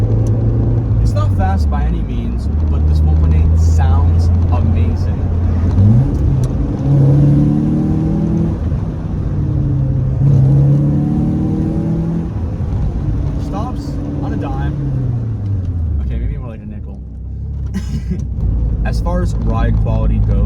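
Lancia Delta second-generation 1.8 engine of 130 horsepower heard while driving, a loud in-cabin hum climbing through several gear-change sweeps and settling back, with a person talking over it.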